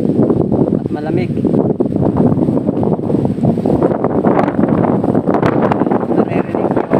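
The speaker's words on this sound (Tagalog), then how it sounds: "Napakalakas ng hangin dito." Strong, cold wind roars steadily into the microphone at a view deck, with a constant low rumbling buffet, and a voice is faintly heard beneath it.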